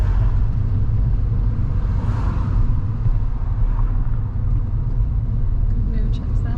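A car moves slowly forward past a line of parked cars during a driving lesson, its engine a steady low rumble that stays close and even throughout.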